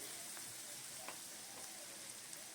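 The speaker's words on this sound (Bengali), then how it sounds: "ভালো করে কষিয়ে নিলাম যাতে পেঁয়াজ রসুনের কাঁচা গন্ধটা যাতে না থাকে" Onion and garlic sauté in a pan for Bengali-style chicken kasa, giving a steady close sizzling hiss with faint scattered crackles and pops throughout.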